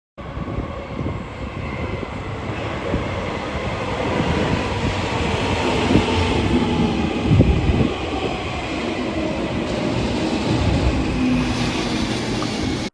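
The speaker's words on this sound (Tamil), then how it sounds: "இன்னும் ஒன் மினிட்ல பார்த்தீங்க அப்படின்னா நம்ம ட்ரெயின் வந்துடும்" A metro train rumbles into an underground station in Finland, its steady roar and rattling wheels growing and filling the enclosed space, with a faint high whine throughout.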